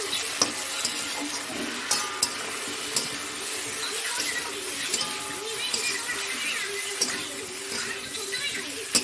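Tomato and powdered spices, coriander and chilli, are stirred and fried in a pan for rohu fish curry, with a constant sizzle and repeated scraping clacks of the spatula close by.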